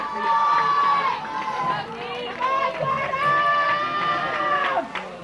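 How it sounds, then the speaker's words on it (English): A crowd at a youth football championship game cheers and shouts through a tense finish, a steady roar of many voices with a commentator talking over it. "Crowd into it now"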